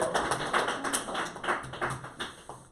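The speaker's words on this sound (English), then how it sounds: "Can we have another big round of applause for the start of part 2?" Applause from a studio audience on a TV quiz show, a dense and even patter of many hands clapping steadily at a moderate distance, with no voices over it.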